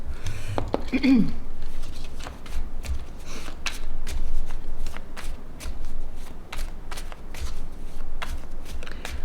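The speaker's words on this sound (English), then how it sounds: "let's pull some more cards" Playing cards are shuffled and pulled during a tarot-style card reading, a steady run of soft riffling clicks and pats at close range with no talking.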